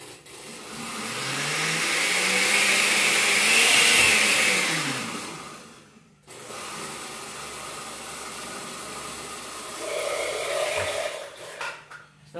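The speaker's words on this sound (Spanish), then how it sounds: "Con ayuda de la licuadora" Kitchen blender whirring savory crepe batter, a steady loud motor roar whose pitch rises then falls, a short stop, then a second run that ends in jostling clunks.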